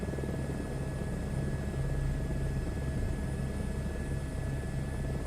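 A helicopter drones steadily in a flight game, its rotor and engine forming a continuous close roar with a faint rhythmic throb and a high whine, no voices over it.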